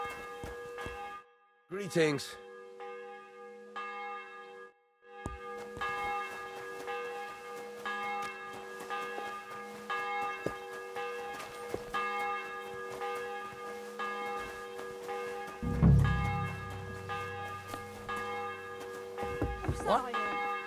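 In Kingdom Come: Deliverance II, a church bell keeps ringing with a sustained, resonant hum and repeated strikes, while a brief greeting, footsteps and other game sounds break in over it.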